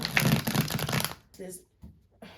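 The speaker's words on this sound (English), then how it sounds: "And tell me to shuffle again." Tarot cards are riffled and shuffled briskly up close for about a second, followed by a few softer taps and shuffles.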